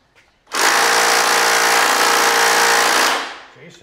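A large power tool gun removes the floorboard screws on a motorcycle, a loud, close, continuous rattling burst lasting about two and a half seconds.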